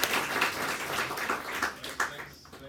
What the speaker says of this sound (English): So please give a big round of applause for Siim Land.